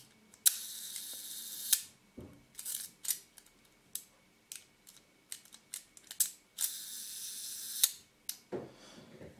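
Rolleicord IV with a Xenar 75mm f/3.5 lens and a sticky slow-speed gear: a vintage leaf shutter is cocked and fired repeatedly, giving sharp close clicks, ratcheting clacks and long buzzing escapement whirs.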